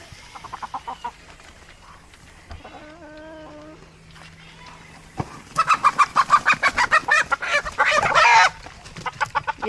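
Chickens, including a black hen, cluck around a country yard: soft scattered clucks, a drawn-out squawk, then a loud run of rapid, rhythmic cackling close by.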